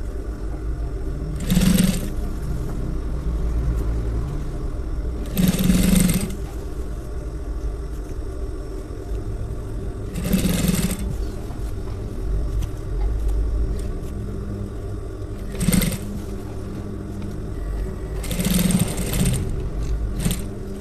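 Sewing machine stitching a shirt collar, a moderate motor hum with rhythmic bursts of faster running every few seconds, close and without voices.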